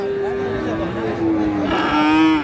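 A crossbred bull calf moos in a long, low drawn-out call that rises slightly near the end, close by, with faint crowd murmur underneath at a cattle market.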